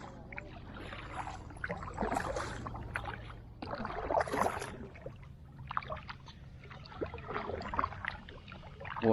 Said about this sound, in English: it's a nice relaxing paddle down through here though